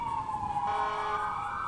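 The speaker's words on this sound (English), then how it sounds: "Oh my God, there's so many sirens." Steady, wailing police sirens in GTA 5, several overlapping tones sounding continuously at moderate volume with a low rumble underneath.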